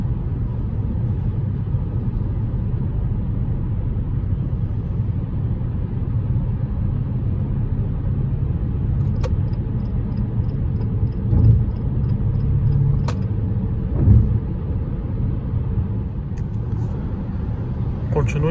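A 2022 Jeep Compass Longitude T270 on gasoline cruising the highway in fourth gear, with a steady low engine and road rumble throughout and a few faint clicks and thumps, someone talking over it.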